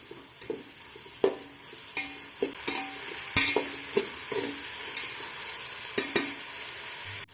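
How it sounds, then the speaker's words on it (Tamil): Thinly sliced onions and six medium green chillies sauté in a pan for vegetable dum biryani, a soft steady frying hiss punctuated by repeated sharp scrapes and clinks of a spoon stirring against the metal. "மீடியம் சைஸில் ஒரு 6 பச்சை மிளகாய் சேர்த்துட்டு நல்லா வதக்கி விடுங்க."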